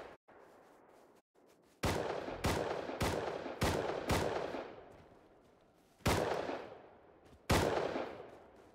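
Seven loud, close pistol shots ring out in an online survival shooter game, each with a sharp crack and a long reverberant tail, fired in an uneven rhythm with a few pauses between them.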